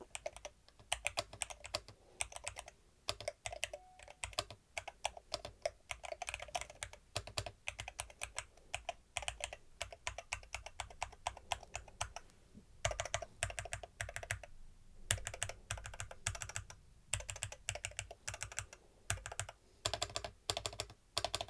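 Rapid typing up close on a MelGeek MADE68 Ultra magnetic gaming keyboard with an aluminium case, a dense stream of crisp clacks and thocks with a few brief pauses, no voices.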